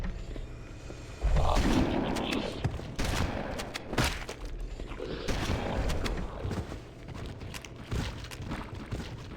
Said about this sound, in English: I'm gonna throw grenades and hope for the best.